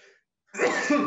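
A single short, sharp sneeze or throat burst erupts up close after a brief silence, loud and breathy.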